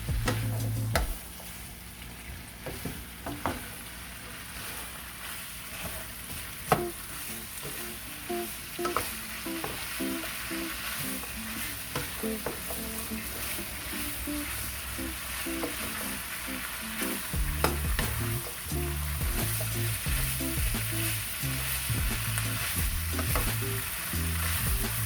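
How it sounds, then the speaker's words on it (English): Vegetables with Thai chili pepper stirred and frying in a pan, a soft continuous sizzle with scattered clicks and scrapes of the utensil, joined by a low rhythmic thumping in the background. "So you just want to stir this and mix it until the veggies are semi-soft,"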